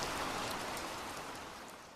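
Steady rain falling on a surface at night, a dense, even hiss of drops with no voices, holding at a constant level throughout.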